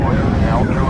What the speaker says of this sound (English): Seconds into the flight, engines beginning to rev up.